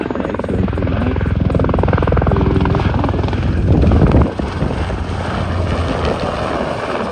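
An MH-60R Seahawk helicopter flies a solo handling display at an air show, a loud, continuous rotor thump and turbine roar that swells slightly, then eases off a little near the end.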